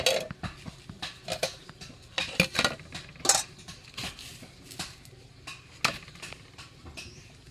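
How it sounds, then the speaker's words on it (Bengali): A knife cuts through rolled-out dough on a board, making a continuous run of light, close clicks and taps at an uneven pace, with no talking. "এই দেখো লম্বা করে বেলে নিয়েছি এখন কেটে নেব মাঝখানে"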